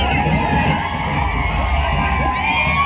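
A large crowd of college youths in Chiplun cheers the arrival of Bakasur, a champion racing bullock, with loud continuous whoops, yells and shouting throughout.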